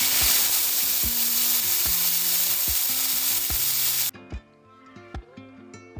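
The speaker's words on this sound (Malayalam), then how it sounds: "ഞാനിത് ആദ്യം എണ്ണ ചൂടാകുമ്പോൾ ഈ പൂ ഇട്ട് കൊടുക്കുകയാണ്." Flowers dropped into hot oil in a pan fry with a loud, dense hiss for about four seconds before it cuts off abruptly, leaving a quieter tonal background.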